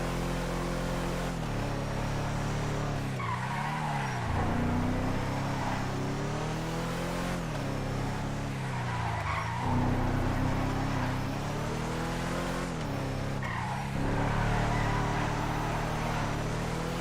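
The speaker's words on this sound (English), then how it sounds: "Okay, this is the Caracara 4x4." A Caracara 4x4 truck in a video game drives with a steady engine drone, rising and falling revs and swooping tire skids repeating every few seconds, fairly quiet overall.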